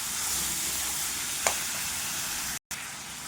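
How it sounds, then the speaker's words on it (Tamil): Boiled vegetables sautéing with onions on low heat, a steady soft sizzling hiss with one brief tap from stirring, then a short silent gap. "இதை ஒரு 10 நிமிஷம் சிம்லேயே வச்சு கிளறணும்"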